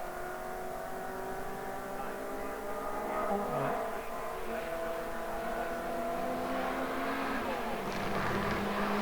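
MG race cars in an MG Owners Club championship race at Oulton Park, engines droning at a steady distance with rising and falling revs as cars pass.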